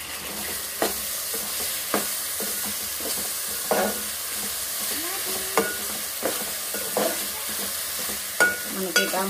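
Salt and tomatoes get stirred in a frying pan, a constant hiss of sizzling oil punctuated by repeated sharp utensil scrapes and taps at uneven intervals, close up with no voices.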